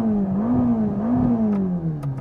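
A Ferrari Roma engine revs, its smooth tone rising and falling in a couple of swells before easing off, heard fairly close and alone.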